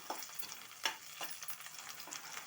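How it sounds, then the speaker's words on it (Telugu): Onions frying in a pan for a Telugu brinjal and moong dal curry, a faint, low sizzle with a few soft stirring scrapes, close but quiet. "ఉల్లిగడ్డ కొంచెం ఫ్రై అయింది కదా"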